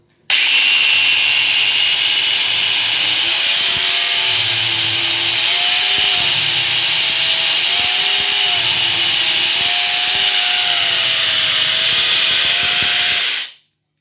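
A homemade tree-cutting saw runs loud and steady through a wooden log, its motor whine rising and dipping slightly as the blade bites, continuous for about thirteen seconds before cutting off abruptly.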